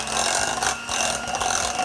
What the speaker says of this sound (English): Now I'm going to use the hand mixer to mix it all up nice and